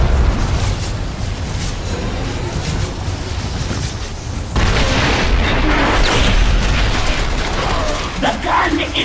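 A heavy explosion destroys a gun emplacement in StarCraft II: Heart of the Swarm, a loud booming blast that swells midway into a long roaring rumble, with game voices and someone speaking alongside it.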